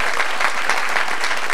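A church congregation claps together at a Sunday service, a steady wash of close, loud applause with no voices over it.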